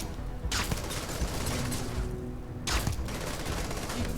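Rapid bursts of close, loud gunfire from a firefight in the video game Starfield, with two sharper volleys standing out from the steady battle din.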